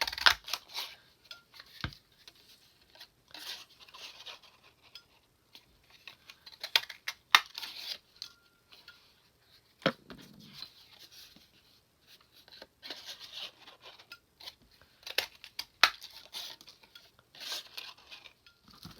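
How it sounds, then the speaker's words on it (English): Scrapbook cardstock being punched into small tags, with sharp crisp clicks and papery rustles in scattered bursts, close and fairly quiet, no voices. "I want to take some of these and stamp out some little tags."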